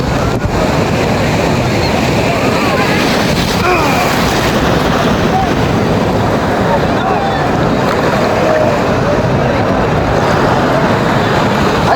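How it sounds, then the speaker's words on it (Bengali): Ocean surf on the beach at Digha, a loud unbroken roar of breaking waves and rushing water heard up close, with heavy wind noise on the microphone throughout. "আরেকটি ঢেউ আসছে জোরে"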